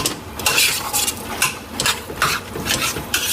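Lamb pieces are stirred through curry paste in a bowl, with a rapid run of clinking, scraping utensil strokes against the dish, close and moderately loud, and no talk.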